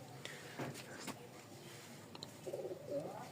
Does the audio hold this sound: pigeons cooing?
yes